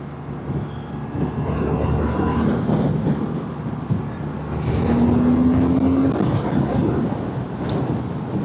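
A BMW R12 G/S motorcycle rides up a lane, its engine a loud steady drone close by that swells as it pulls, with a brief rising whine partway through.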